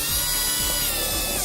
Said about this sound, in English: drilling it